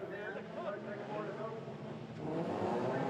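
Ford Fiesta ST race cars pull away from the start of a race at the Leinster Trophy in Ireland, a dense blend of revving engines that swells louder toward the end, with a commentator talking over it.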